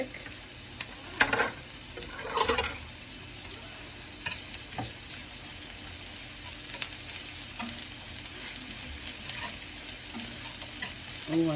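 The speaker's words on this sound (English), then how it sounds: "Now we're going to add the shallots. And then we add the garlic." Shallots and garlic sizzle in a pan for wild mushroom risotto, giving a soft, steady crackle while a utensil stirs and scrapes now and then, quiet and close with no voices.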